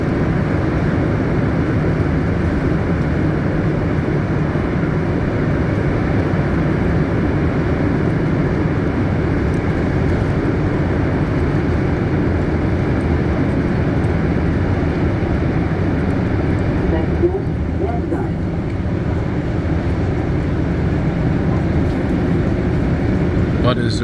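Steady rumbling roar of a Montréal Métro train riding the Green Line during afternoon rush hour, heard from inside a car, continuous and loud throughout with little change.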